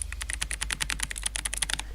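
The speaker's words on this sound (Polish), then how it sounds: "Słuchaj, ten dźwięk tej klawiatury." Fast typing on a mechanical computer keyboard: crisp, clicky keystrokes in a rapid, uneven stream, close and fairly loud, with a low steady hum behind and no talking.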